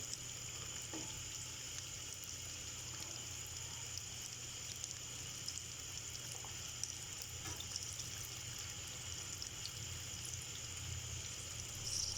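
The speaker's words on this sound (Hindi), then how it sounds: "हम फ्राई करेंगे फिश स्टाइल में वॉन्टन" Wontons deep-frying in hot oil, a faint, steady bubbling sizzle that carries on evenly throughout with only occasional soft pops.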